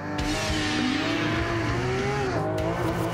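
A Porsche 911 GT3 RS and a Nissan GTR Nismo launch hard off the line in a drag race. Loud engines climb steadily in pitch, with a quick gear change and a fresh rise near the end.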